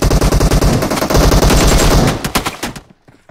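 Rapid automatic gunfire in the PUBG Mobile deathmatch mode, loud, dense bursts that rattle on for over two seconds before breaking into a few separate shots and fading out.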